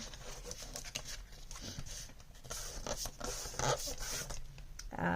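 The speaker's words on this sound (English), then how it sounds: "And then I'm going to fold both of those edges in." Scored paper edges are folded in for a journal cover, giving a soft, continuous rustle and scrape of the paper being handled, with no voice.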